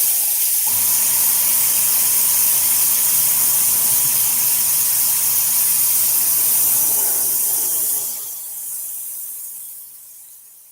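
An airbrush spraying varnish gives a steady loud hissing spray that runs for about seven seconds, then tapers off and fades near the end.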